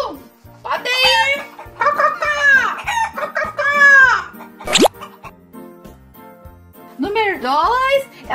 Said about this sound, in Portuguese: Atenção, dona Galinha. A galinha vai no número 1.